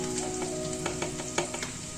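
Turmeric and chili powder spices fry in a pan at home, giving a steady, dense sizzle with a few brief crackling bursts, close and continuous with no talk.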